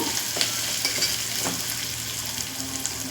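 Egg tomato pulao mixture being stirred in a pan, with a steady close sizzle under scraping and clinking spoon strokes and no talking.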